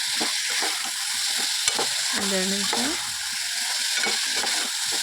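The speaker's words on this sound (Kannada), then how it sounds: "ಎಲ್ಲ ಹಾಕ್ಕೊಂಡ್ಬಿಟ್ಟು ಸ್ವಲ್ಪ ಮಿಕ್ಸ್ ಮಾಡ್ಬೇಕ್ರಿ" A peanut curry mixture with jaggery stirred in a hot pan gives a continuous close sizzle with scraping strokes of a spoon, and a brief creaking metallic squeak partway through.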